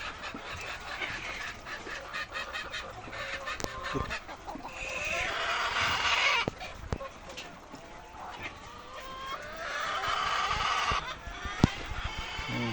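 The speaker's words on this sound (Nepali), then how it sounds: "हेर्न सक्नुहुन्छ कुखुरा फुल पार्ने पोथीहरू यहाँ पनि रहेका छन्" Several egg-laying hens clucking and cackling close by on a farm, rising into louder bursts of squawking, with a busy barnyard murmur underneath.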